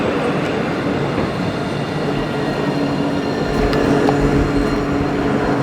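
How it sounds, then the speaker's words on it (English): A tram pulls in at a stop in Nottingham with a loud, close rumble of wheels on rail. Faint squeals and clicks are heard near the end. "As we got back here, the tram arrived."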